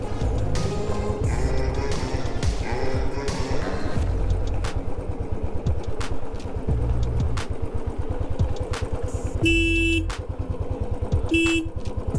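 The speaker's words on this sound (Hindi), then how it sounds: "हम वहाँ से धीरे धीरे बाइक लेके आए नीचे" A motorcycle rolls slowly downhill on a mountain road with failing brakes, its engine rumbling steadily up close, with brief horn toots near the end.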